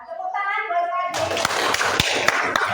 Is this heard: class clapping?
yes